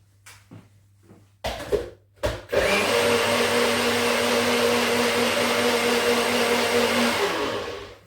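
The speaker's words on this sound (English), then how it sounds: "Salt, pepper. Give it another whisk." Eggs seasoned with salt and pepper are whisked for a quiche or Spanish omelette. A few soft knocks come first, then a loud, steady whirring drone runs for about five seconds before fading.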